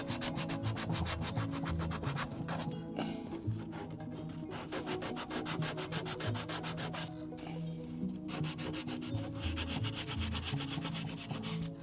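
Continuous abrasive rubbing and scraping of sanding on a Proton Pack prop, steady and close, with brief lulls around a few strokes.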